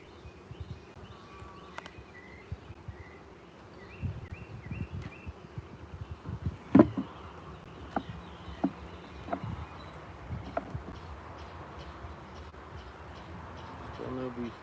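Honeybees buzz steadily around an open hive during an outdoor inspection, with a person talking and occasional clicks and knocks from handling the frames.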